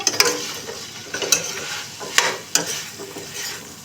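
A spoon stirs and scrapes through a potato, pea and capsicum curry frying in a pan, with a soft steady sizzle under a few sharp clinks against the metal.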